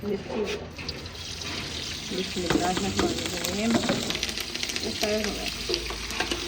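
Okra and chillies fry in hot ghee, a close and continuous crackling sizzle with stirring scrapes, while voices talk over it.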